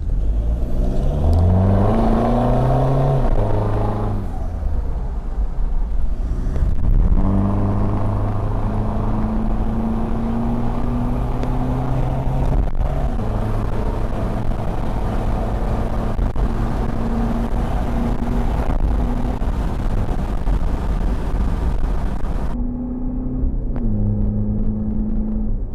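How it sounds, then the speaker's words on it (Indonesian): A Toyota Fortuner VNT turbo diesel with a blow-off style wastegate revs hard several times, its deep engine note climbing and dropping in loud, close bursts with short pauses between pulls. "karena ini wastegate-nya ada buangan seperti blow off, suara tembakan angin itu lebih kenceng"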